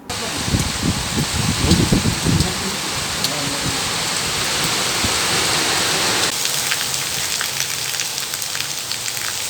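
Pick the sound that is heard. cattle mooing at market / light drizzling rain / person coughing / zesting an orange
light drizzling rain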